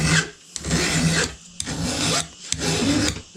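Hand file rasping across a chainsaw chain's raker in three rhythmic scraping strokes with short pauses between, close and clear, no talk.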